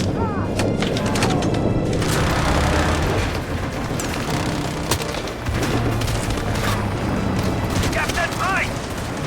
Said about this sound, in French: Une explosion de voiture, oui, c'est ça.